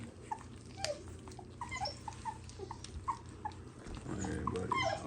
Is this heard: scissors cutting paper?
no